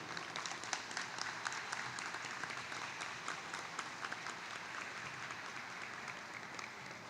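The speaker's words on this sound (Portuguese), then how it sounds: "Peço palmas, senhores," Steady audience applause at a formal solemn session for the Irmãos Bertussi medal awards, an even wash of many hands clapping at moderate distance, sustained throughout without talk.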